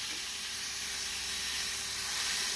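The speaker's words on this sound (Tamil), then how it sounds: "வெங்காயம் வதங்கியவுடன் நாம் தக்காளியும் பச்சை மிளகாயும் போட்டு வதக்கிக் கொள்ளலாம்" Onion, tomato and green chili sauté in a pan over medium heat for an egg masala omelette, a soft, even sizzle and hiss running throughout with no voices.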